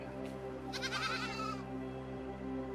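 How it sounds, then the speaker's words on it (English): Sheep in the video game AER: Memories of Old bleat once, a wavering, harmonic call lasting about a second over a steady musical game soundtrack. "Interesting sheep."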